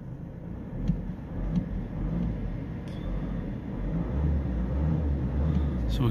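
A car engine runs at a steady idle during a diagnostic scan-tool check, a low continuous rumble with a few faint clicks near the start; no speech.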